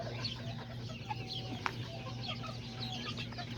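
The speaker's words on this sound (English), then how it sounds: "looking at the little Kikiriki chickens, little bannies" Small Kikiriki bantam chickens cluck softly and sporadically in the distance over a low steady hum, with one sharp click partway through.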